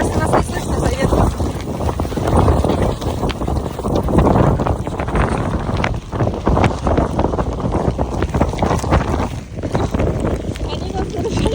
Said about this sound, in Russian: Мне кажется, нас не слышно за ветром.